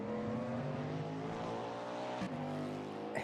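In Assetto Corsa, the Saturn Aurora race car runs through the S-curves during a 24-hour Daytona esports race, its engine droning loudly and steadily at high revs with a brief shift near the end.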